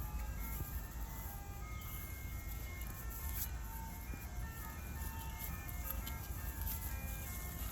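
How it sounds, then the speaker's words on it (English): An ice cream truck plays its tinkling jingle in the distance, a faint repeating melody heard over steady outdoor background noise. "That's the ice cream truck."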